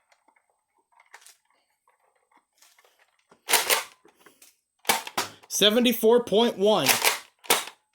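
Several sharp foam-dart shots from a Nerf Elite 2.0 Shockwave RD-15 blaster crack out in quick succession, loud and close, after a quiet start with a brief spoken number.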